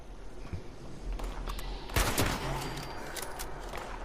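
Gunfire aimed at the player in Fallout 76, scattered shots and a heavy burst cracking around the listener at close to mid range over a low ambient rumble, with one louder volley in the middle.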